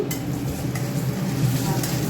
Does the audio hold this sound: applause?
no